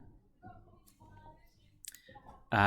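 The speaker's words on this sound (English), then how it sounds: "now let's click on it" A single sharp mouse click lands near the end, loud and abrupt, after a quiet stretch of faint room sound at a computer desk.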